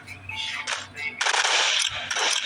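Gunfire in the Roblox game Rivals: a burst of rapid gunshots, then a brief lull, then a louder sustained volley of shots close up, with faint game sounds between.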